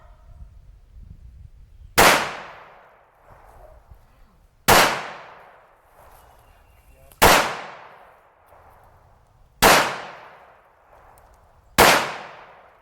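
At an outdoor shooting range, a pistol fires five loud single shots roughly two and a half seconds apart. Each crack leaves a long, fading echo over faint background noise.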